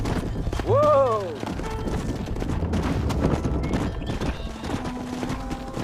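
In Red Dead Redemption a horse gallops with rapid, rhythmic hoofbeats, opening with a loud, rising-and-falling whinny. Voices and scattered bangs of gunfire sound over the pounding hooves.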